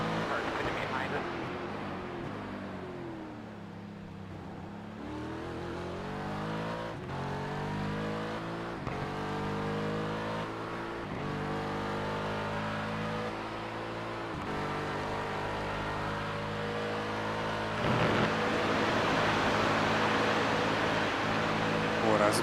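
GT3 race cars at Spa in the iRacing sim, engines droning and shifting through gears with rising and falling pitch, a continuous loud engine note under a commentator's voice.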